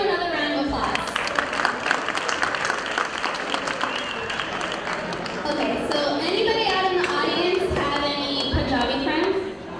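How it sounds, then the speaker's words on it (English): Sustained applause and cheering from a live audience at a community stage event, loud and dense, with a voice speaking over it and shouts rising through the clapping. "Please give him another round of applause."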